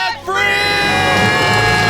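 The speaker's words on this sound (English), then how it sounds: "Let's hear a debt-free scream." A large live audience erupts into a loud, sustained collective scream of celebration after a brief pause, the cheering and yelling holding at full volume to the end.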